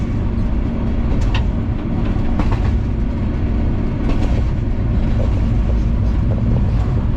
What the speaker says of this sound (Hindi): आपके सामने ट्रेन अभी अच्छी स्पीड में आ रही थी